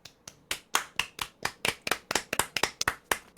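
Hands clap in a quick, fairly steady series of about eighteen sharp claps, close and loud, with no talking over them.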